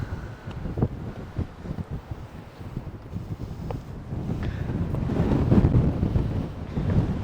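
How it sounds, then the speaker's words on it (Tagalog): Strong wind buffets the microphone in rumbling gusts that build and swell, growing louder toward the end, with no voices heard, at a glass bridge in Vietnam. "Ang lakas ng hangin"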